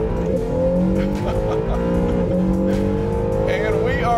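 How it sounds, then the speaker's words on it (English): An Acura NSX with a dual-clutch transmission launching in track-mode launch control, its engine note holding a loud, steady rising harmonic drone close by, with faint tire noise and a voice briefly speaking over it. "So let's go ahead and see what launch control is like."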